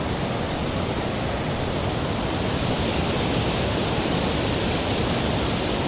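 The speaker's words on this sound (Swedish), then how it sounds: "Här är en del utav Ristafallet." Ristafallet waterfall in Sweden pours enormous amounts of rushing water, a dense, unbroken roar that stays loud and even from start to finish with no voices.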